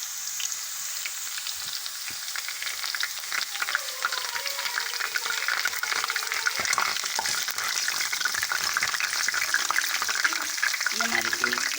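Garlic browning in a pan for masoor dal, a steady bright sizzle and crackle running throughout, with occasional stirring and light scraping, close and moderately loud.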